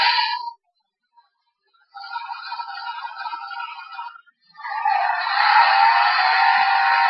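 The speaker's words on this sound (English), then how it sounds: "fast, high-speed monster truck sounds" Electronic high-speed monster truck revving from a Transformers Dark of the Moon Leader Ironhide toy, played by holding its button. Short burst, a pause, then a longer rising roar that grows louder, near and with no voices.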